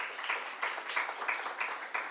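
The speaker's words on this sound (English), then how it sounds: "I want all of you to give them a big round of applause" Audience applause greeting Dr. Shruti Nair, Ashoka's leader for South Asia, as she is introduced at a youth mentorship and changemaking event; steady, moderately faint clapping from a crowd, with no voices over it.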